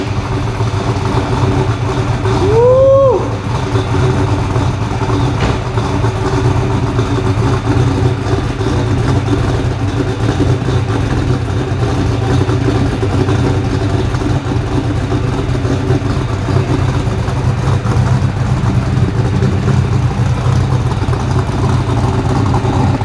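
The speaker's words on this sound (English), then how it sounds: "No foot on the gas pedal. This is how awesome this Holley system is." Car engine on a Holley system idling with no foot on the gas, a loud, steady, even rumble held throughout with one short squeak early on.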